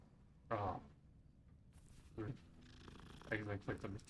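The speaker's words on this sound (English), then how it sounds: "I accidentally clicked on the cat." A cat purrs in Hogwarts Legacy, a soft low rumble running beneath several short bursts of nearby speech and game sounds.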